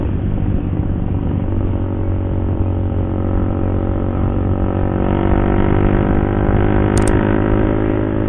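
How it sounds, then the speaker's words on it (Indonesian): A truck lurching and swaying along a road on a stretch called Pengkol, its engine a steady loud rumble with a low drone throughout and a brief sharp high tick near the end, no talk. "Truk oleng"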